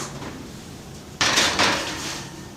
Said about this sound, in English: Now we're going to put it in the oven at 350.